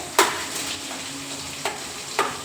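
Tomatoes frying in a pan for tomato chitranna, a steady soft sizzle with a few sharp scraping stirs of a spoon against the pan, close and with no voices.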